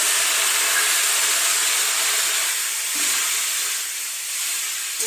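Katla fish frying in a pan with a splash of water gives off a loud, steady hiss and sizzle, bright and continuous, with a brief flare of spattering midway.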